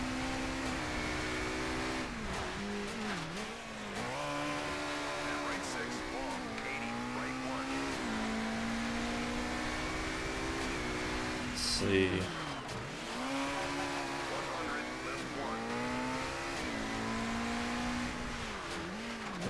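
A Fiat Punto rally car engine in Colin McRae: DiRT drones steadily and revs up and down through a stage with hairpins, with tire noise throughout and someone talking briefly over it.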